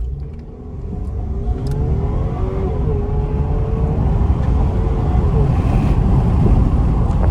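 A 2018 Buick Regal TourX accelerates hard from a standstill, its engine note rising steadily and loud for the whole stretch amid road and wind noise, with no talking.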